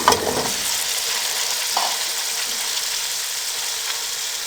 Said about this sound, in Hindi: मटर अच्छे से फ्राई हो चुके हैं। अब इसमें हम बारीक कट किए हुए आलू आधा किलो ये शामिल कर देंगे।